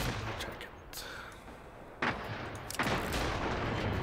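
Gunshots in the Generation Zero video game, fired at robots: a few sharp, loud cracks a second or so apart over a steady game background, with a voice talking in between.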